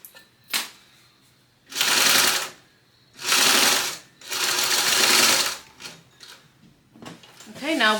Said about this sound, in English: we're going to get this sewn together at 3/8 of an inch seam allowance